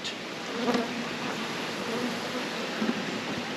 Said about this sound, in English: Not a massive colony, but the bees are good in there